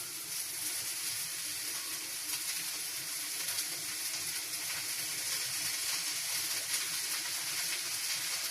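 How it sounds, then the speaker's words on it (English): Noodles fry in a pan over a high flame, giving a steady, close, broadband sizzle with soft stirring scrapes underneath and no pauses or talk. "So we're going to add our noodles."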